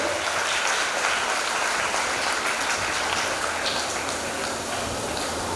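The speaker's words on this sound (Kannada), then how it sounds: "ಜೋರಾದ ಚಪ್ಪಾಳೆ ಬರಲಿ" Loud, sustained applause from a crowd of children at an Independence Day ceremony, a dense steady wash of clapping that fills the whole stretch without letting up.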